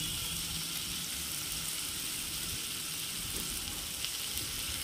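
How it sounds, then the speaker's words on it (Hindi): Steady, dense sizzling of onion and capsicum being stirred with spices in hot oil, a continuous close crackle and hiss with faint stirring, no talk. "वो डाल दिए तेल में। और फिर इसको हम अच्छी तरह से मिला लेंगे"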